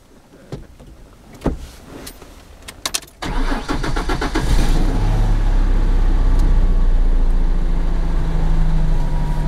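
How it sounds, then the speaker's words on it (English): A few clicks and clunks, then a manual-transmission car engine cranks and catches, settling into a loud, steady idle close by. "to start the car, you have to push your clutch all the way in"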